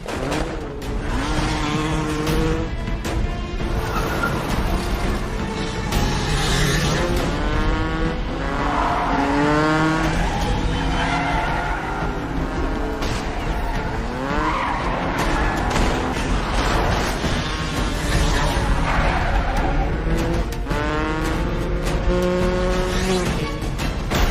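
A film chase scene in which a motorcycle flees and crashes into a police car: loud, continuous engine revving and whining, with tire squeals and skidding running throughout.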